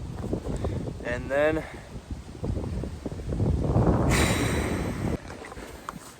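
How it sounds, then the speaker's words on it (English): Strong wind gusts buffet the microphone at a lake in the Boundary Waters in early October, rising louder midway, with a person briefly talking over it. "Yeah, it's really windy."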